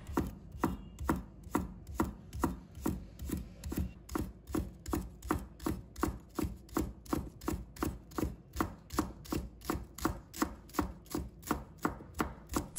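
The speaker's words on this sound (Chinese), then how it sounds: "把蒜白切成小粒。" Garlic sprout whites are chopped into small pieces on a cutting board with a kitchen knife, a steady run of crisp, close knocks repeating evenly at about two per second throughout, with no talking.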